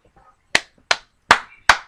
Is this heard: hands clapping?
yes